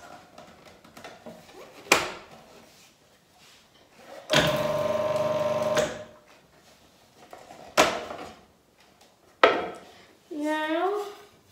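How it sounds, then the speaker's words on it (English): A food processor whizzes a cheese puff mixture with paprika in a short burst of steady motor whir lasting under two seconds, set among clinks and knocks of kitchen utensils. "then just whiz that together a bit"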